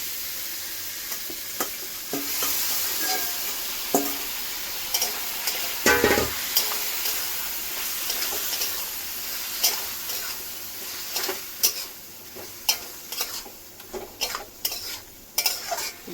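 Boiled banana flower stirred into a fried spice paste in a pan, with a spoon scraping and clattering against the metal in irregular strokes over a soft, steady sizzle.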